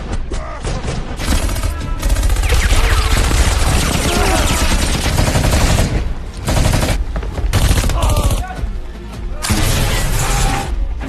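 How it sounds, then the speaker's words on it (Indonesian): Dense, loud action-film shootout with rapid bursts of automatic gunfire and single shots, mixed with crashing and shattering debris, running nearly continuously for about eleven seconds with only brief dips. "Namun selanjutnya, aksi tembak-tembakan pun kembali terjadi."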